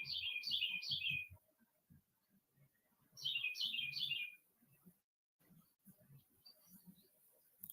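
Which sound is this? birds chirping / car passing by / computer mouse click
birds chirping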